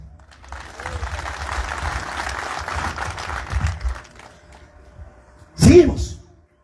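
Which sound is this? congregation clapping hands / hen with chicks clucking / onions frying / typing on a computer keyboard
congregation clapping hands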